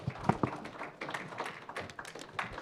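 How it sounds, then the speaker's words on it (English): Scattered hand claps from a crowd at a wrestling event, the 51st Annual Pittsburgh Wrestling Classic, a short, uneven burst of fairly close clapping. "Loving the round of applause we're getting."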